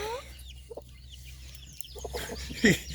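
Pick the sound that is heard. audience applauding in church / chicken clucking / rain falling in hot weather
chicken clucking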